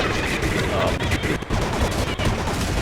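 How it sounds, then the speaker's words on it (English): Counter-Strike: Condition Zero gunfire in slow, spaced tapping shots, dense and continuous with several dips, loud and close throughout with no talk. "Slow taps, not firing away, just tapping slowly, aiming away, saving your bullets."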